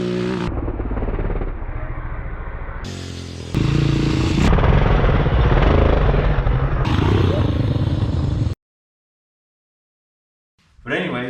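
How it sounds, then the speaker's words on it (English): A Simplicity lawnmower tractor fitted with a 450 Yamaha engine runs loud and close, its engine note jumping up in pitch and revving harder partway through, then cutting out abruptly into silence before briefly starting again. "our off-road freaking awesome tractor, Simplicity lawnmower with a 450 Yamaha engine on it"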